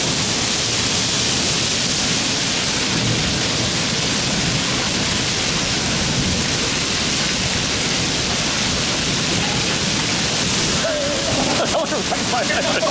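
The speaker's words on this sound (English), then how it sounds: "It is certainly raining." Heavy rain pours during a storm chase after a hail burst, a loud, steady, dense hiss of downpour throughout, with a brief voice near the end.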